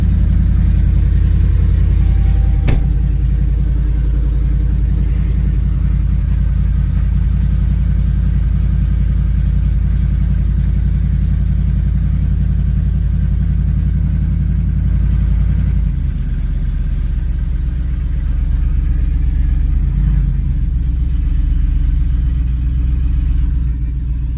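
A Whipple-supercharged 392 Ram runs through a custom true dual exhaust with cutouts open, a loud, deep, continuous rumble close by, with a couple of brief blips in revs.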